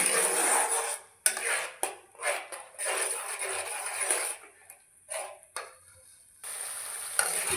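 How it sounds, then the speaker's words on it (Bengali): Raw tomatoes and tomato paste fry in a pan while a utensil stirs, giving bursts of scraping and clattering over a bright sizzle, loud and close, with short quiet gaps between strokes. "দেখুন, আমি ভালো করে ভেজে নিচ্ছি"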